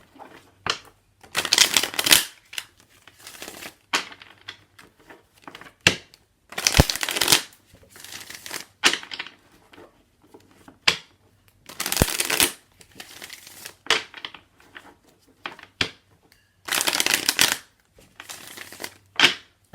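Tarot cards are shuffled in repeated bursts of riffling and flicking, each lasting a second or two and separated by short pauses, close and fairly quiet with no talk.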